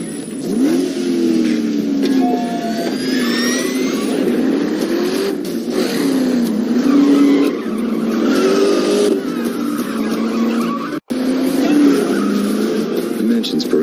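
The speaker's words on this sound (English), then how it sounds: "This car is driving completely autonomously." A smart autonomous car revs and accelerates with squealing tires and skids, a loud, continuous engine note rising and falling through gear changes, with voices talking over it.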